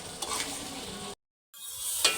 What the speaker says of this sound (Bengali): এটাকে আমি শুকনো শুকনো করে কষিয়ে নেব মশলাটাকে।